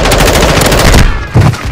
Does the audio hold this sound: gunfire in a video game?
yes